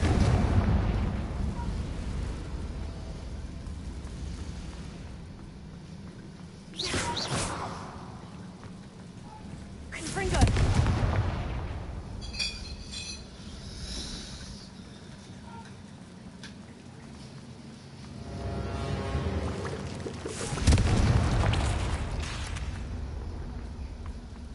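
Confringo blasting spell explosions in the Hogwarts Legacy video game, booming bursts repeating about every few seconds, loud and close over a steady low rumble of game ambience.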